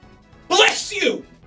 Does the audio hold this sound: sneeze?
yes